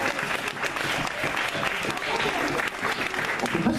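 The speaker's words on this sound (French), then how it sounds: "On peut pas souvent applaudir les ingénieurs du son" A festival audience applauds the sound engineers at Sonorama 2018, steady dense clapping that stays even and moderately loud throughout, with faint voices mixed in.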